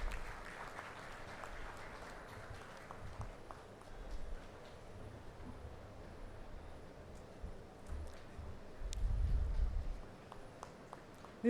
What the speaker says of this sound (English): We would like to see the resounding sound of claps